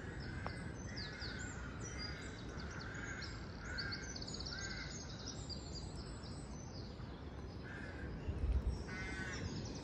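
Rooks cawing around an old rookery on St Lawrence Undercliff Drive, Isle of Wight, in spring: repeated harsh calls at a moderate distance over steady outdoor background noise, with fainter chirps from smaller birds.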